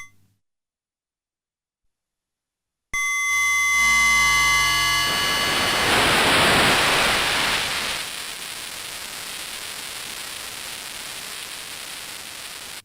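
An Arturia MicroFreak synth's noise oscillator starts after a silence as a bright tonal buzz and sweeps into a loud metallic cymbal-like hiss, then settles into a steady, quieter noise wash.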